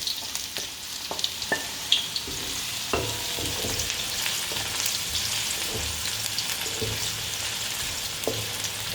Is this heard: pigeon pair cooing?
no